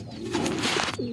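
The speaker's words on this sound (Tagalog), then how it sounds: "Ito mga kalapatids." Pigeons coo softly up close, a low throaty warble rising and falling over a steady background hum.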